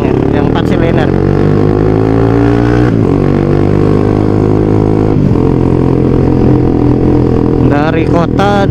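A Kawasaki Ninja 250 twin-cylinder motorcycle riding with a touring group: a loud, steady engine drone close by, a brief dip near the middle, and quick revs rising at the end.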